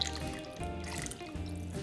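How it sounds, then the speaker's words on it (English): Stock pouring into a pot of homemade French onion soup, a continuous close liquid splashing and trickling that runs the whole moment, with no talk over it. "So I'm gonna go ahead and pour some more in here."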